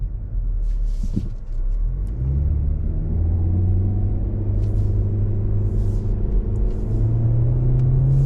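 A 2025 Hyundai Elantra SEL Sport compact sedan with its economical driveline, heard from inside while driving, gives a steady loud low engine drone and road rumble. Engine tone climbs gently as it goes through corners.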